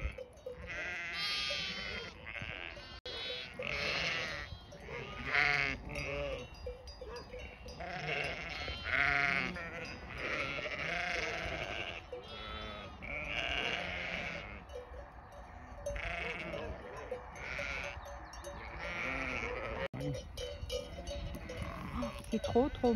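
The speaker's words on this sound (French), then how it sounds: "Les petits agneaux de Pâques" Young Easter lambs bleating in a farm pen, several overlapping high cries near and far, with people talking quietly and a faint bell-like clank in the background.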